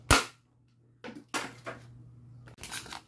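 A spring-type 1911 airsoft pistol fires at styrofoam, giving three sharp, close snapping shots spread across the moment, each a brief loud crack over a faint steady hum.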